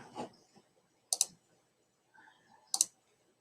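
Computer mouse clicking while generating a random password, two quick double clicks spaced a second or so apart, close but faint in a quiet room, with a short bit of soft voice between them.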